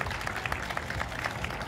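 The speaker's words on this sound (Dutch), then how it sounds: "Applaus voor de winnares, dames en heren, Vera Koedoder." At a women's elite cycling race in Belsele, Belgium, a crowd applauds the winner steadily, a dense wash of clapping at moderate volume that holds without pause.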